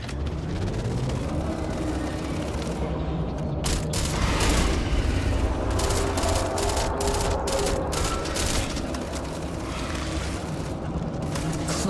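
Gunfire from a security guard in Starfield, a dense, continuous barrage of loud booming shots and mechanical clatter filling the whole stretch, with bursts building toward the middle and no talk over it.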